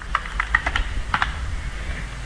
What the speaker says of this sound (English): I am typing this